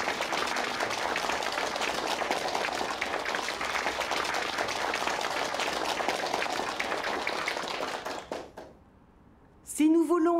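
Dense, sustained applause fills a church gathering for about eight seconds, then fades into quiet before a voice starts speaking.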